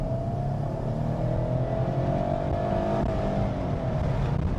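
A 3.5-liter V6 Dodge Charger accelerates hard, its engine note climbing in a steady rising pull at close range, loud and unbroken with no voices over it.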